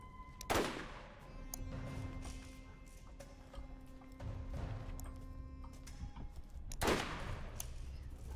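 Gunfire from a weapon in the Borderlands video game: a few sharp, loud shots with long decaying tails, spaced several seconds apart, over a low steady background.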